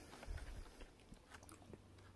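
Quiet chewing of a Francois Doucet raspberry candy, soft crunchy bites and mouth sounds close to the mic, recurring irregularly, with no talking.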